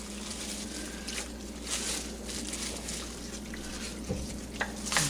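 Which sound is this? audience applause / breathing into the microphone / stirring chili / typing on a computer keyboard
stirring chili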